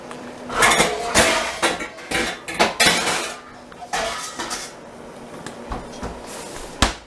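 A metal pot lid set down on a steaming pot in a home kitchen while cooking soul food, with several close, clanking metallic knocks and scrapes of cookware.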